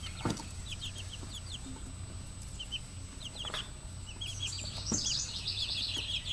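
Chickens clucking around a backyard coop, with repeated short clucks, a few louder calls and brief chirps over a low outdoor background, no speech.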